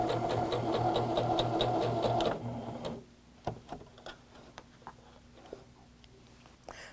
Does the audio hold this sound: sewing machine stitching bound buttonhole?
yes